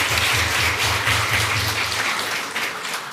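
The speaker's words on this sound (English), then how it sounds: "Guys, round of applause." Dense applause from a crowd at a school board meeting, steady and sustained throughout, with a low rhythmic hum underneath.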